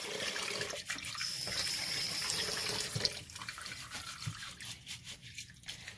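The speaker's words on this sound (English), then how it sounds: "And so you just continue to wash your rice." Rice is rinsed and swished by hand in water in a bowl. Soft, quiet sloshing and trickling runs continuously at close range, with small splashes and no speech.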